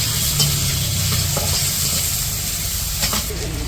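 Onions and green chilies frying in hot mustard oil in a pan; loud, continuous crackling sizzle with steady hiss and a few stirring scrapes, close and alone without talk.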